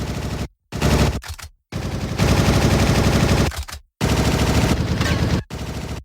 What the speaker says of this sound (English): The gang then hears gunfire.